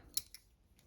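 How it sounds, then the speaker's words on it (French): Wire cutters snipping through the binding of a scrapbook album, two short sharp metallic clicks close by in near silence, followed by a fainter tick. "Donc j'ai une pince coupante."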